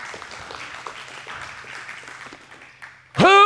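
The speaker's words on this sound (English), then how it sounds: "Give him a hand clap." Scattered hand clapping from a church congregation, moderate and fading, before a voice abruptly starts speaking loudly.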